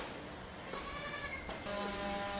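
A dairy goat that has borne four kids and gives plenty of milk bleats twice in quick succession, faint and somewhat distant, with quiet farmyard background and no talking.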